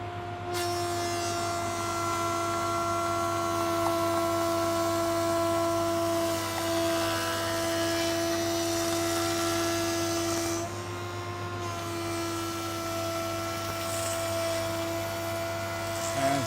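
Wood planer with a 260 mm head runs steadily while planing timber 250 mm wide at 2 mm depth, a continuous loud whine with a strong steady hum, briefly dipping near the middle.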